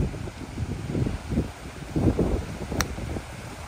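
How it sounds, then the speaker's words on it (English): Strong gusty wind of about 35 miles an hour buffets the microphone on a golf course, a rough rumbling roar that surges and fades in repeated waves. "The wind today is about"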